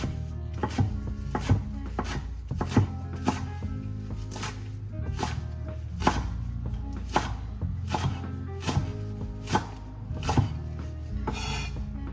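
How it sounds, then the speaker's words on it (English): Fresh chives chopped on a cutting board with a sharpened knife, the blade pressing down in steady repeated strokes, each landing as a crisp thud. Close and clear, with no talking. "just kind of grab it and push the knife down into it"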